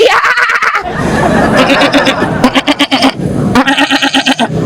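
At a Qurbani livestock market, a goat bleats loudly and close by in a run of quavering cries with brief pauses between them, over faint crowd chatter.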